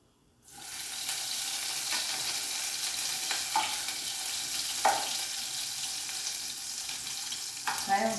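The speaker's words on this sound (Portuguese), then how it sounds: "tem um resto de carne frita de ontem, e eu vou colocar essa gordura aqui, ó" Leftover fried meat fat hits a hot pan and sizzles steadily and loudly up close, a constant frying hiss with occasional small pops and scrapes, no voices.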